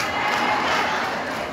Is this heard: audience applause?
yes